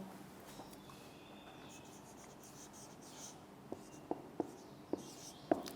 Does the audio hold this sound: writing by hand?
yes